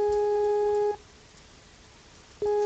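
Ringback tone on an outgoing telephone call, a steady electronic tone that sounds for about a second, pauses in near silence, then starts again; clear and alone.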